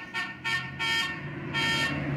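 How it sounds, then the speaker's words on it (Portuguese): A toy car horn honks in four short, bright toots with brief gaps, close and fairly loud against a quiet background. "Por que você tá buzinando?"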